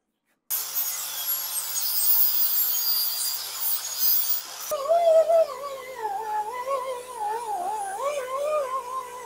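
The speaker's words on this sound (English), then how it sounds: "let's just grind it down, and hopefully it'll look like it never was there" An angle grinder grinds down a weld on a scrap-metal Baja Bug bumper, a loud continuous abrasive hiss that turns midway into a wavering, whining metallic tone as the disc bites.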